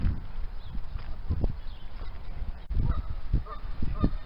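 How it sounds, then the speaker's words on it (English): Mallard ducks, including a green-headed male, quack and honk in short bursts at close range, several calls spread across the moment with light rustling between them. "It's a mallard duck already"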